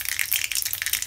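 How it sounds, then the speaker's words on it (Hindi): Mustard seeds spluttering and popping in hot oil in a pan, a quick crackle of sharp little pops close by and without talk. "तेल हमारा गर्म हो गया है। अब इसमें मैं डालूंगी थोड़ी सी राई"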